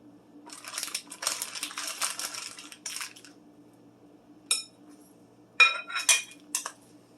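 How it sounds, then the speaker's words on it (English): Ground beef is mixed in a bowl for meatballs, making scraping, squelching strokes with clinks of a utensil against the bowl. A stretch of steady mixing is followed by a few short, sharp knocks. "Now you're going to mix it well until all the contents are blended in with the beef."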